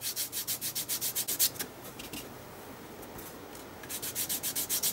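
A fingertip rubs ink in short, rhythmic strokes across the textured page of an art journal, with close dry scuffing. A brief pause breaks the rubbing before it starts again. No one talks.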